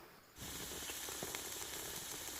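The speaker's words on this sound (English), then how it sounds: "I did the water sizzle test" Water hitting a hot pan on a woodstove inside a hot tent: a sudden onset of continuous sizzling hiss that holds steady with small crackles and pops for a couple of seconds.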